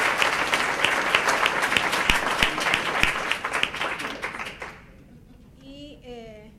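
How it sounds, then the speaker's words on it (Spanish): Symposium audience applauds to welcome an alumni panel, a loud burst of dense clapping that tapers off after several seconds, leaving a faint voice. "por favor, denles un aplauso de bienvenida a los panelistas"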